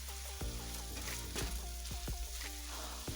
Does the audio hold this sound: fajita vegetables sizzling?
yes